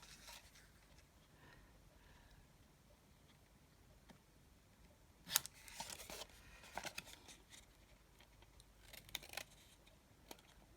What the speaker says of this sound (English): And then cut in your edges.